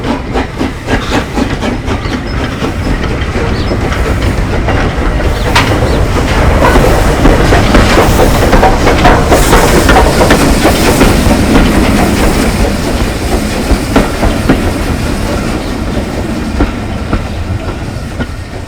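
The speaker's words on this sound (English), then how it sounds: "we ready ourselves immediately for the arrival of GWR Manor Class locomotive, Odney Manor, on a service train" A GWR Manor Class steam locomotive pulls in with its service train, with loud chuffing and hissing steam over clattering wheels. The sound builds and then eases over nearly twenty seconds.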